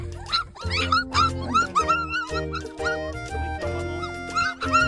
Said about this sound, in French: Et on a aussi des bébés chiens.